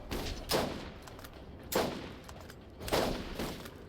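Three heavy, evenly spaced sniper rifle shots in the shooter game Borderlands, each a loud crack with a short decaying tail and faint game noise between.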